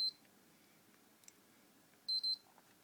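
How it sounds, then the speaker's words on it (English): A PlayStation 3 console beeps once, then after a pause gives two quick beeps in succession, clear and close in an otherwise quiet room. "this time it's going to beep once, and then it's going to beep twice."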